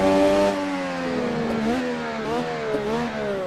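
An F1 race car in a video game at Suzuka revs up through the gears, its loud engine whine climbing in pitch with quick dips at each upshift, close and steady with no voices.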